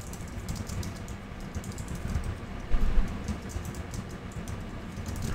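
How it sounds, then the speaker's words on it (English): Someone types a prompt on a Mac keyboard, a quick run of light, close key clicks at an uneven pace, with a short burst of harder taps midway and no talking. "So here, for example, we can type this in."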